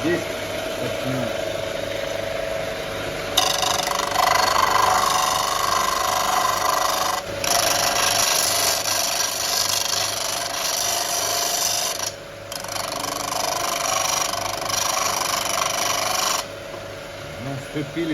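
A steady, loud abrasive grinding hum runs throughout, a homemade belt grinder with fine abrasive rasping against wood, with brief dips where the pressure eases.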